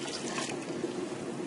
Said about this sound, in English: Then now I put some water in there.